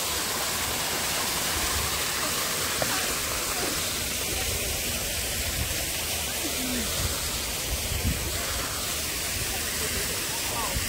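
Water flows at the fish-mouth entrance gate of KSR Global Aquarium as a steady, broad rushing hiss, like a small waterfall, that holds level for the whole stretch, with voices faintly present under it.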